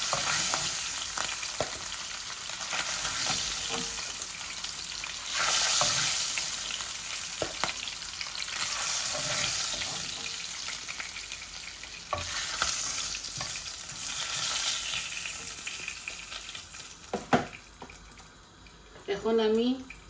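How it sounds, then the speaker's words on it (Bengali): Hilsa fish frying in a pan, a steady close sizzle with occasional stirring and scraping, while a voice talks briefly over it near the end. "মাছটারে এখন আমি পুরি লই"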